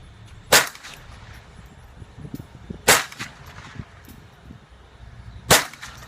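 Three sharp, loud rifle shots from a Marlin 60 fired at a bottle lying on the ground, spaced a couple of seconds apart, each a crisp crack over quiet outdoor background.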